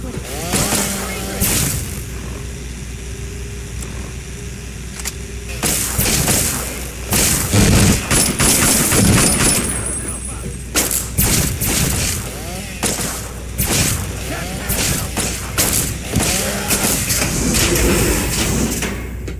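Soldiers firing in Fallout 3, with sharp repeated gunshots and booming blasts in irregular bursts, loud and close, mixed with game noise and voices.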